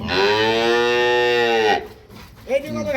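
A dairy cow gives a long, loud moo close by, followed by a short pause and the start of another lowing call.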